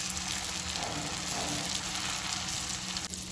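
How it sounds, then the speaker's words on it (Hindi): Meatballs shallow-frying in oil in a pan over a medium flame, giving a steady, dense sizzle and crackle that stays close and even throughout with no talk. "तो पलट पलट के हल्के हाथों से फ्राई करेंगे हम"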